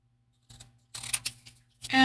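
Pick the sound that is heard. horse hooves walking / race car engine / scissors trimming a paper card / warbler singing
scissors trimming a paper card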